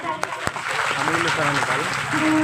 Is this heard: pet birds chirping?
no